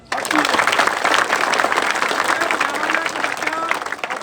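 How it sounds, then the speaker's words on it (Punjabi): A crowd claps and applauds loudly and steadily at a kabaddi training camp in a Punjab village, a dense wash of hand claps that holds for several seconds before easing slightly. "ਉਹਨਾਂ ਲਈ ਇੱਕ ਵਾਰੀ ਤਾੜੀ ਮਾਰੋ"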